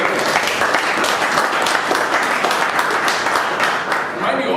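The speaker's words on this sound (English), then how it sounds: "Big round of applause for Santosh Jagtap and Daksh" Dense, loud audience applause after speakers at a stage evaluation session, a continuous, even roar of many hands clapping that lasts the whole stretch.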